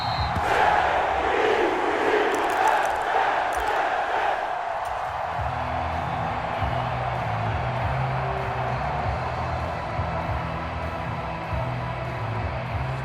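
A stadium home crowd in Madden NFL 23 during an AFC wildcard playoff game between the Jets and their opponent roars loudly and steadily throughout, with cheers swelling early and a broadcast voice talking beneath the din.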